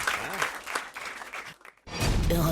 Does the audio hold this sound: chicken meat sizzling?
no